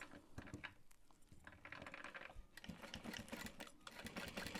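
A sewing machine stitches backpack fabric along a quarter-inch seam, its needle mechanism whirring in a steady, close, continuous run with fast rhythmic clatter throughout.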